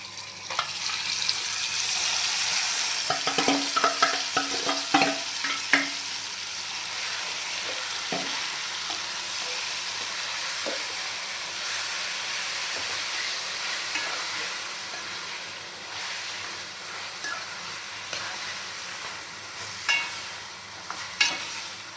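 Chicken frying with biryani masala in a pan, a steady close sizzle with occasional stirring and clinks of a spoon against the pan, and no one talking.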